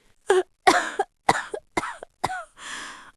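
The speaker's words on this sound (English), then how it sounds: "When she was brought up this time, she coughed." A series of six sharp, close coughs in quick succession, the last one drawn out and raspy.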